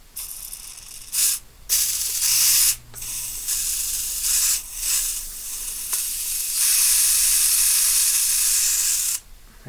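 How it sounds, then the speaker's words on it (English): Bursts of WD-40 aerosol squirted into a container of cleaning liquid for RC bearings, several short hissing sprays followed by a longer steady one, close and clear with no talking. "Bit more WD-40, just going to squirt it in there."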